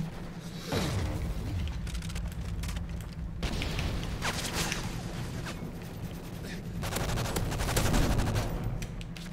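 Rapid gunfire from a Call of Duty Modern Warfare 3 free-for-all match, with bursts of automatic shots and booms running nearly continuously and loudly, fading briefly in places before building again.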